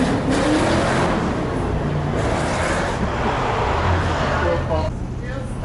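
A car drifts on fresh snow during a gathering in Vladivostok, its engine droning steadily and loudly amid general traffic noise, with no clear revving peaks.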